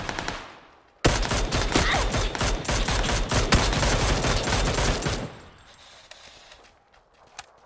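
Rapid bursts of automatic gunfire ring out from above in PUBG, loud and dense for several seconds before cutting off, followed by quieter scattered clicks.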